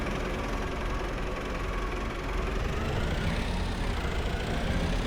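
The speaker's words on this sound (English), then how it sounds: "I think the tractor should be warm enough for us to start using it now" In Farming Simulator 25, a tractor engine idles with a steady, even low rumble that stays continuous and moderately loud throughout.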